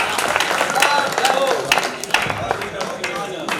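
An audience claps at a Hindi kavi sammelan poetry recital for a humorous poet, with scattered applause and cheers running throughout under a voice.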